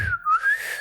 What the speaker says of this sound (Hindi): ऐसे करके मतलब सीटी बजा बजा के उनको चिढ़ाने की कोशिश कर रहे हैं।